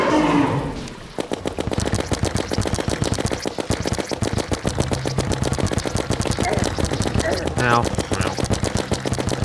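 A gun in a video game fires tungsten bullets as a rapid, sustained automatic stream of sharp shots, loud and close, running almost without a break.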